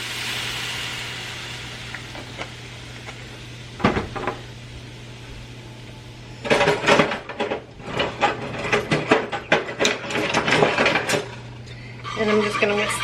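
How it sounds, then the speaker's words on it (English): Milk is whisked into a pan, starting with a few isolated clanks and then breaking into a rapid, close run of metallic tapping against the pan. A short pause follows before a final burst of whisking. "And I'm just gonna whisk this up."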